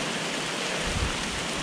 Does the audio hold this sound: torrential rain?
yes